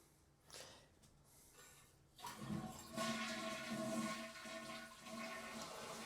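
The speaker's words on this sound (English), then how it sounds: "Flushes properly, flushes a lot." A rebuilt toilet tank flushes after a top-end repair, starting as a faint trickle, then a strong rushing gush of water that continues steadily, close by.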